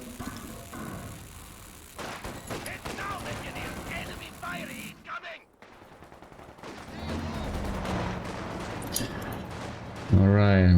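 Machine gun fire in a strategy game, a rapid burst of crackling shots followed after a brief lull by further battle noise and scattered gunfire, with a commentator's voice running over much of it.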